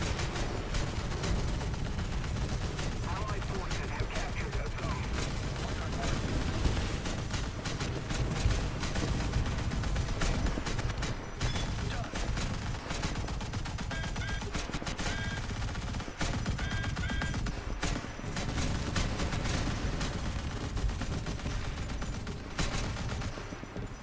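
Dense incoming gunfire in the War Thunder naval game, with rapid overlapping shots and bursts of fire sustained throughout at a steady, fairly loud level.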